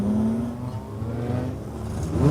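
Race cars on the Weskus oval track rev hard and launch from the starting grid together, a loud, close roar of overlapping engines that rises and falls and then swells again at the end.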